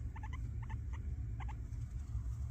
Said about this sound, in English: there's a little tooth chattering sometimes